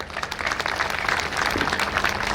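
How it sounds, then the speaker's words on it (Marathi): A crowd gathered for a showroom opening breaks into steady, dense applause, many hands clapping together at close range without pause. "एकदा डीएच टाळ्या वाजवून स्वागत केलं पाहिजे"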